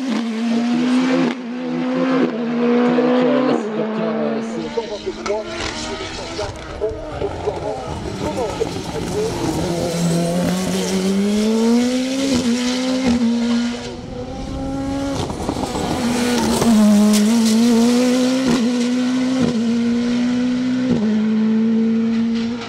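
A Révolte 3P0 Turbo race car on a hill climb run at Mont-Dore in the 2023 Sport series revs hard through repeated gear changes, its engine rising and falling as it passes close by, with a commentator talking over it throughout.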